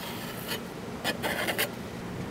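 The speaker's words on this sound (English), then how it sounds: "So we're just gonna roughly chop some of this." Fresh garden parsley is roughly chopped with a knife, a few quick, crisp cutting strokes in small clusters against a quiet steady background.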